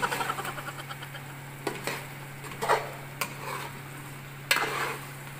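Spicy meat biryani being stirred in a pot in a home kitchen, with a soft scraping and sizzling stir under a steady hum and a few sharp clinks of a spoon against the metal.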